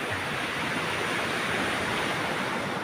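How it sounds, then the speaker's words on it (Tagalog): Sea waves wash onto the beach at Real, Quezon, a constant broad surging roar, close and loud, with no distinct breaks or voices. "dito tayo sa dagat"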